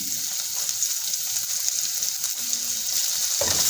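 Chopped onion lands in hot oil with golden-fried cumin seeds and fries with a loud, steady sizzle, a brief clatter of the pan near the end.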